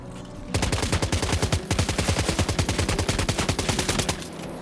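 Rapid bursts of automatic gunfire from the game Death Stranding 2: On the Beach, loud and close, with sharp shots rattling in a fast steady rhythm for several seconds.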